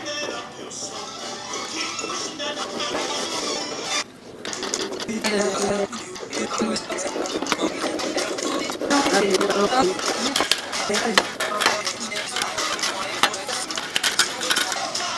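A hand-cranked flour sifter works powdered sugar and almond flour for macarons, making a busy, continuous mechanical clicking and scraping close by, with a brief pause near the four-second mark.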